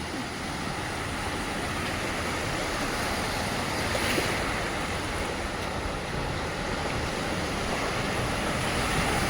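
Overflowing canal water floods a road near a crossroads in Morbi, Gujarat, making a steady, loud, broadband rushing roar that continues without a break, with no voices.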